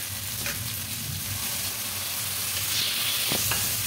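Spice paste frying in a pan for a small rohu-type fish curry in yogurt, giving a dense, continuous sizzle and hiss with a couple of sharp stirring scrapes near the end, no speech.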